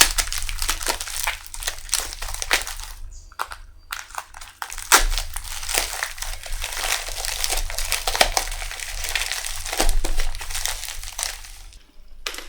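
Lipstick packaging being cut open, giving dense crinkling and crunching of plastic wrap over about twelve seconds, close and fairly loud, with irregular sharp snips and rustles and a brief pause midway.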